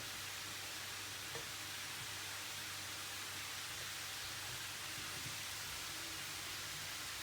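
Chicken pieces sizzle in a pan on the stove with a steady, fine crackling hiss, quiet and continuous.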